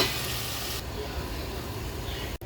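Potato pieces are tossed into a pan with garlic and stirred, giving a steady close sizzle that softens slightly partway through and stops abruptly.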